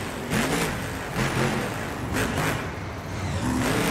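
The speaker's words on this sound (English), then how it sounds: "Revving that engine as he leaves the stadium." Monster truck engine revving at Anaheim's stadium during a World Finals qualifying event, loud repeated surges and swells of rough engine roar with a steady crowd-like background wash.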